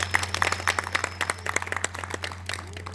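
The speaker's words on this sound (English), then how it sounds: "So give yourselves a round of applause." Scattered applause from a small outdoor group at a Fed Up campaign protest in Wyoming, sparse individual claps popping irregularly over a steady low hum, thinning out toward the end.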